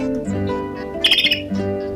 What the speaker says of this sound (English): the pygmy nuthatch.